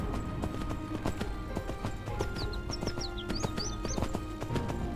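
Horse galloping in the survival game Myth of Empires: rapid, even clip-clop hoofbeats close by, with faint bird chirps over the steady pounding and no voices.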